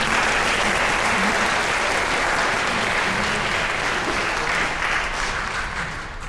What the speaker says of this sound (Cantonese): 我俾掌聲答啱啊！